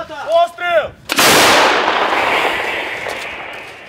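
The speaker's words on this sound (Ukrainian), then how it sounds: "Гармата! Постріл!" Someone shouts briefly, then a single powerful artillery gun blast booms close by in the Donetsk region and its rumbling echo slowly fades out.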